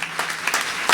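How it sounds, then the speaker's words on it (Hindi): A crowd at a Hindi comic poetry gathering claps loudly to welcome a poet to the stage, a brief, dense burst of many hands with a few sharper claps standing out. "रोहित शर्मा के लिए जोरदार तालियां बजाकर उसका स्वागत कीजिएगा।"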